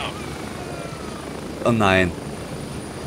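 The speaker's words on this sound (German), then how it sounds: "Hoffentlich landet der Hubschrauber nicht auf ihn drauf." Helicopter landing in the military shooter game Gray Zone Warfare, a steady rotor and engine drone running throughout at moderate level, with a short burst of speech breaking in over it midway.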